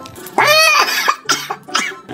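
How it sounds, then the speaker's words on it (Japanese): A person coughs hard several times in quick bursts, close up, with short gasping breaths between the fits, from eating wasabi. "もうすごい自然と咳が出るんだけど"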